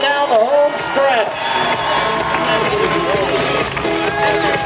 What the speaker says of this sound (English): We need to cheer them on down the home stretch